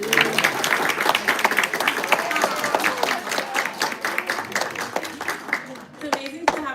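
An audience claps for an honoree at a Women's Day event, with scattered hand claps mixed with voices throughout and the clapping tapering off near the end.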